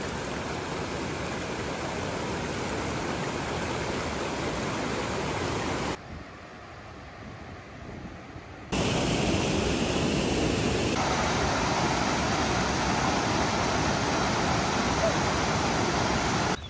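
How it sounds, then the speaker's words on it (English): Rushing water of a small creek at a backpacking trail crossing on the way to Conundrum Hot Springs, a steady broadband wash that drops out briefly partway through and then returns loud and continuous. "another little creek crossing."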